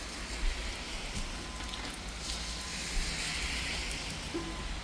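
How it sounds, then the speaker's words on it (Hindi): Steady rain falls throughout, a constant hiss of drops with occasional louder patters, no voices present. "पीछे बारिश हो रही है जो कि 3 दिन से होती चली जा रही है"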